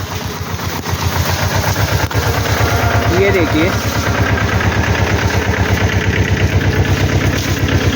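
A motorbike engine runs at a steady, throbbing pulse while a rider standing on the bike sprays growth promoter across a sugarcane field. The engine is close and loud throughout, with someone speaking briefly over it.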